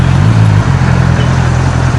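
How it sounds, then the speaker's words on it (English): Honda CB650R motorcycle exhaust while riding, a steady loud low engine drone holding nearly constant for two seconds with a slight dip partway, no voices. "one is gonna realize with the sound that a CBR or a CB is just coming through"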